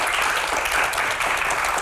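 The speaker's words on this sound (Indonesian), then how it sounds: "berikan tepuk tangan yang paling meriah untuk rekan-rekan mahasiswa yang ada di studio" Studio audience of university students applauding, a dense, even wash of many hands clapping at once, steady and moderately loud for a short burst without any talk.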